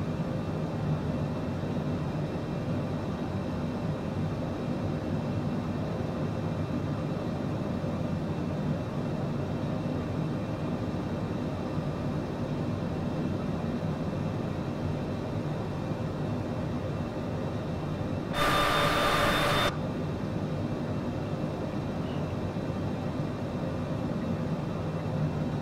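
Airplane engines roar in flight, heard from inside the cabin as a loud, steady broadband drone lasting throughout, with a brief burst of louder hiss partway through.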